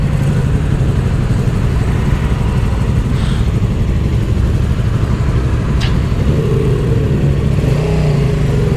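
Motorcycles revving during a Santa Claus motorcycle ride (balade des Père Noël à moto) among a large crowd, with a loud, continuous low engine rumble running throughout and brief higher whines over it.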